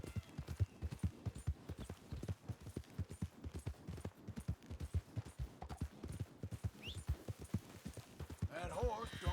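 Horse hooves clip-clopping in Red Dead Redemption 2, a steady rapid gallop rhythm of repeated hoof strikes close up, with game ambience and a brief rise of other sounds near the end.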